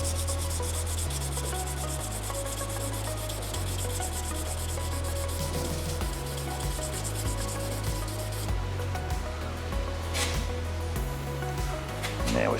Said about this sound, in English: Now if I was rubbing this just the clear, I would be rubbing next to the run as well as the run.